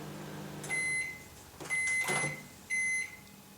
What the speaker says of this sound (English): we'll give it another 10 seconds in the microwave